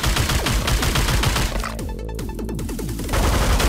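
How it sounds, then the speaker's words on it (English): Rapid machine gun fire in the video game Megabyte Punch, loud, dense bursts of shots with clanking impacts, nearly continuous across the clip with a brief softer stretch in the middle. "He's shooting you with a machine gun too."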